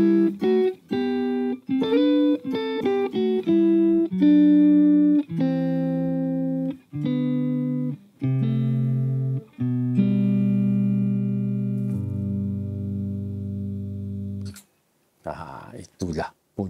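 Electric guitar playing a solo line harmonised a third below, sustained distorted notes in a steady melodic phrase that holds long tones near the end before stopping, followed by a brief rustle.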